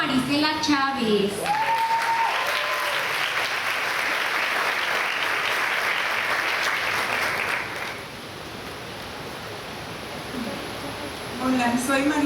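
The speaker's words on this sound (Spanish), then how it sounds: "Así que por favor demos un aplauso a Marisela Chávez." A church congregation applauds a woman stepping up to give her testimony, sustained clapping that starts under a few spoken words, runs steadily, then softens as speech returns at the end.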